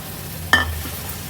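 Green peas tipped into masala paste cooking in hot oil, giving one sharp sizzling burst that fades into a soft fry over a low hum.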